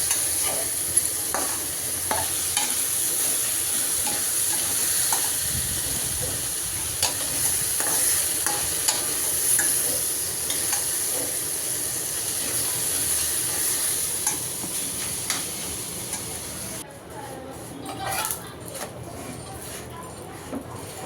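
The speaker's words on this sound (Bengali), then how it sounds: "পাশের চুলাতে ভাজিটা বসিয়ে রাখছি, চুলাটা কমিয়ে" A vegetable bhaji frying in a pan on a stove over low heat, with a steady sizzle and occasional light stirring clicks running throughout, fairly close, fading somewhat toward the end.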